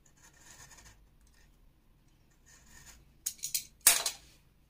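Scissors cut paper for a scrapbooking bag, starting with quiet rasping snips and ending in several sharp, close crunching cuts.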